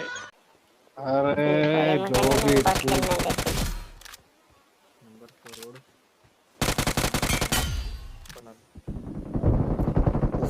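Two loud bursts of rapid shotgun fire in the mobile game BGMI, each lasting a couple of seconds, separated by quieter game sounds and a brief bleating tone.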